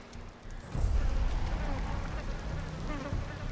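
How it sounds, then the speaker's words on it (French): Flies buzz steadily in a video game trailer, a dense close drone that swells after a brief quieter start and holds throughout. "Vous avez les mouches, c'est bon."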